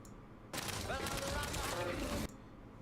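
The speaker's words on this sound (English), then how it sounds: "if you listen, you'll also hear the double barrel shot go off" Double-barrel shotgun fire in the Fallout 76 video game sounds as a dense, loud burst of gunfire lasting under two seconds, with a person talking underneath throughout.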